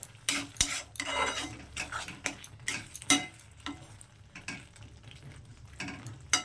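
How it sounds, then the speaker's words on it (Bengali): A spoon scrapes and clatters in a pan as ridge gourd is mixed with mustard oil for a Bengali jhinge posto made without poppy seeds, giving close, irregular metallic knocks and rustles with no talking. "এবার একটু মিশিয়ে দেবো এটার সঙ্গে খুব ভালো করে"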